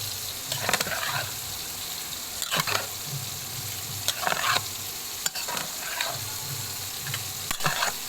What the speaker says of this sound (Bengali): পাস্তা দিয়ে এখন এই টমেটোর যে পেস্টটা এটা সুন্দর করে মিশিয়ে দিতে হবে